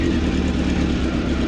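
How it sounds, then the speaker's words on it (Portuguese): A 2017 Honda Hornet 600 with a carbureted engine idles close by, a steady, even, throbbing rumble that holds without change across the short stretch. "Então esse é o ronco da Hornet carburada de"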